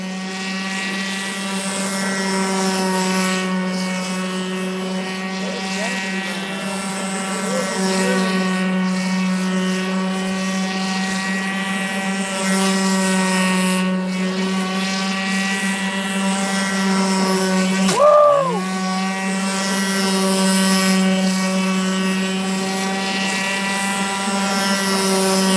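Radio-controlled airboat engine screaming at full throttle with no throttle control, a loud, steady high-pitched buzz with a strong propeller drone, sustained throughout apart from one sharp swoop in pitch near the end.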